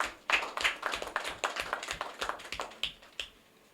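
A small group claps at a political party gathering in Nigeria, a sparse, uneven patter of individual hand claps fairly near and moderately quiet, fading toward the end.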